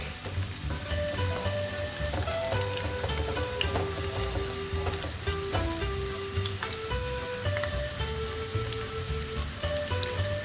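Fish frying gently in a pan over low heat, a steady continuous sizzle with scattered crackles running throughout, with steady tonal music layered over it and no talk.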